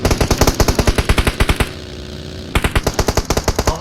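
Rapid automatic gunfire from a PUBG Mobile match, loud bursts of evenly spaced shots with a brief pause in the middle before firing resumes.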